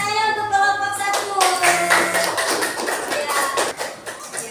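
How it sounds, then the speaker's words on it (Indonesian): Classroom applause for a student group, dense rapid clapping from many hands with a voice talking and children's voices over it throughout. "Beri tepuk tangannya untuk kelompok 1"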